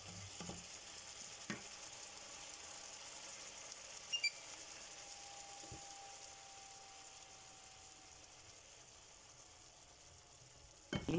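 Green beans, carrots and pork belly sautéing in a pan with oyster sauce, a steady soft sizzle and frying hiss running throughout with a few brief clinks of a utensil.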